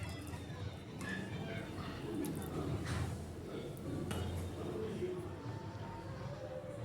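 A spoon clinks and scrapes against a pot as kheer is stirred, with soft intermittent metallic taps under a faint background murmur of voices.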